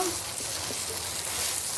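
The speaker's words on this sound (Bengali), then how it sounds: "কই মাছগুলো ভাজা হয়ে গেছে" Native koi fish fry in hot oil in a pan, a close, even crackle and hiss that holds steady throughout, with no voices.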